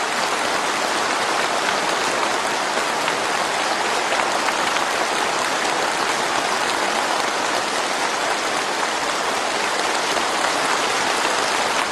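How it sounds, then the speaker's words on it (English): Dense, steady applause from a standing crowd for the squadron leader, a continuous hiss of many hands clapping that holds evenly without breaks for about twelve seconds, with no voices. "Now stand and applaud the glorious leader."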